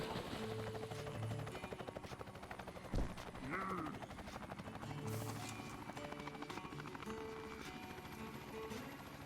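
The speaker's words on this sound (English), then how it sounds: "The helicopter again." A helicopter's rotor chops steadily in the game Ty the Tasmanian Tiger 2, layered with music, a sharp bang, and other busy effects.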